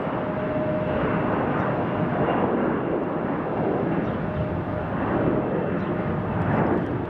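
A jet airliner, a CRJ or a Boeing 737, departs from Lake City International, a steady distant engine roar with a low rumble and wind-like texture holding even throughout, without talking.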